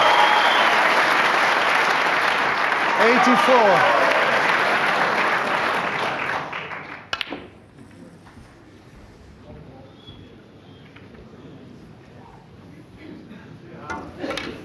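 Snooker crowd at the World Championship breaks into loud sustained applause that holds for several seconds, then fades abruptly into a quieter arena hush, with a commentator speaking briefly over the clapping.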